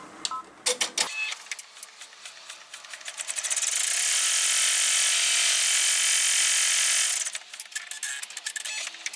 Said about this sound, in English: Pop it back in, and it's going to sew our pocket all the way around for us.